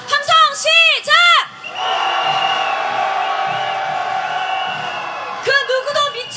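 Crowd on a Hongdae street at a candlelight march calling for Yoon Suk-yeol's impeachment lets out a sustained collective roar of shouting and cheering lasting several seconds, framed by a speaker's amplified voice before and after.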